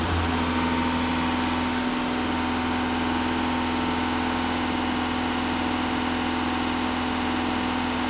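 A VW Passat B7 4×4 diesel engine is held at about 2500 rpm during a DPF and EGR cleaning, producing a steady, even mechanical hum with a constant tone and no voices.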